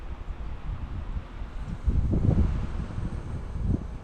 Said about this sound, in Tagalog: ay lakas ng hangin